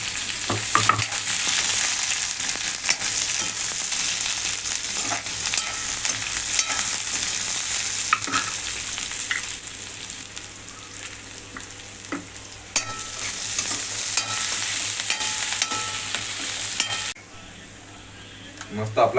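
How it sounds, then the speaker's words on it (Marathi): Onion frying in a pan, a steady loud sizzle with scraping and clinks from stirring throughout, quieting abruptly near the end. "आणि कांदा."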